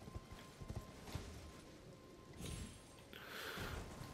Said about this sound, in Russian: Вот тут есть тем более возможность при помощи коня быстренько запрыгнуть.